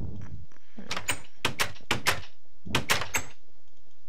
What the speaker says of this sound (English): How do you open doors, or can you open doors? Try right clicking on it.